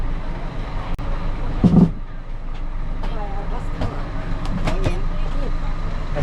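Inside a bus travelling to Hua Hin, a continuous low road and engine rumble fills the cabin, with a brief bump and a few clicks and scattered faint voices over the steady drone.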